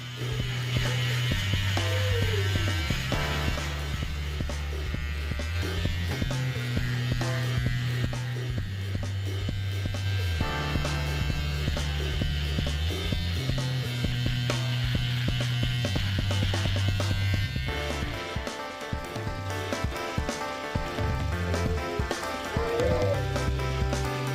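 Electric hair clippers with no guard fitted, run at the zero setting, trim a beard at home, giving a steady close buzz with a shifting pitch as the blades move through the hair.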